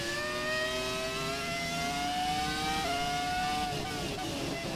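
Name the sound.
Ferrari F2004 engine in F1 2017 video game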